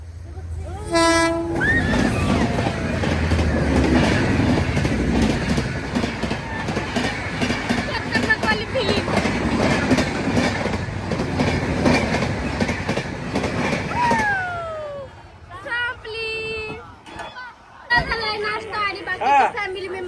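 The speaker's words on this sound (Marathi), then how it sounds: "इकडने येते ट्रेन" A train rumbles loudly past for about fourteen seconds, wheels clattering, then fades as scattered voices and a few sharp squeals follow.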